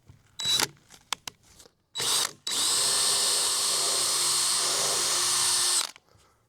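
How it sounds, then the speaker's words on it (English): A power drill bores a small pilot hole through a wooden board, with a few short clicks and a brief burst first, then one sustained loud whine lasting about three and a half seconds before stopping. "what I'm going to do is drill with this tiny hole first, just to mark the very center"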